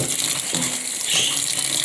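A bathroom sink faucet runs water steadily into the basin, a continuous close gushing splash over a couple of seconds with no speech.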